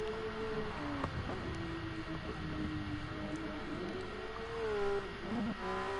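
A race car engine whines out of the pits in GT Sport at Laguna Seca, a steady, fairly distant drone that rises and falls slightly and climbs near the end.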